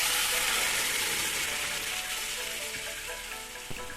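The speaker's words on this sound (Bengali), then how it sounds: "যখন গন্ধটা ছড়াতে শুরু করবে তখন গরম তেলটাতে ডালটা ঢেলে দেব।" Lentil dal poured into hot oil tempered with five-spice, giving a loud hissing sizzle that is strongest at first and gradually eases, with a small clink near the end.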